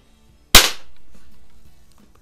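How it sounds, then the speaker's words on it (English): A single sharp crack from an old smoothbore Daisy BB gun firing a pellet, loud and close, followed by a short decaying ring and then quiet. "Pretty good score from this old smoothbore Daisy BB gun. It shoots these pellets really good."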